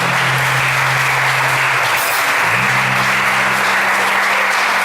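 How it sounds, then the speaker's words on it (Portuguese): A worship congregation claps loudly and continuously, a thick wash of many hands filling the whole stretch, with a low sustained tone underneath. "Glorifica a Senhor com as suas palmas."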